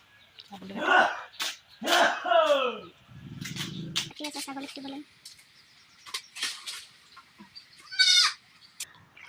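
Goats bleat several times in quavering calls on a house veranda during a village flood, with a sharp slap and a low rumble in between, amid indistinct human voices and background chatter nearby.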